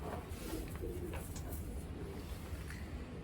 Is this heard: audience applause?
no